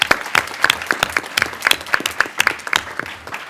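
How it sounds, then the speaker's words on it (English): At a summer celebration for UX design program graduates, a small audience claps, producing sparse, distinct individual hand claps in an uneven patter that stays close and fairly quiet. "Please give them a round of applause."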